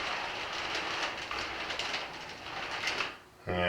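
A small model railroad locomotive runs quietly along the track, giving a soft steady whir and rattle that fades near the end before a sudden louder click.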